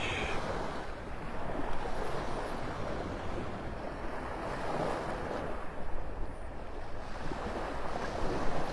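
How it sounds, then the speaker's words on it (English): Surf breaks steadily along the shore at Vanderbilt Beach in North Naples, Florida, a continuous broad wash of waves mixed with wind noise on the microphone, with no talking. "Well, now on to the beach."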